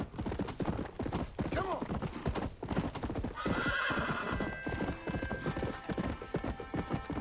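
Horse hooves clip-clopping in a quick, even rhythm while riding in the video game Red Dead Redemption, with a horse whinnying partway through and someone speaking briefly over it.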